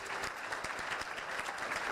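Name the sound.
conference audience applauding the panel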